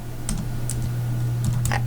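A few keystrokes clicking on a computer keyboard while entering a Linux command, scattered close taps over a steady low electrical hum.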